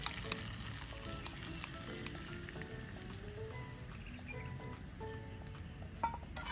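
A hot tadka of cumin, curry leaves, green chili and sesame seeds poured over Gujarati muthiya dhokla, giving a steady close crackling sizzle with faint spoon clinks throughout.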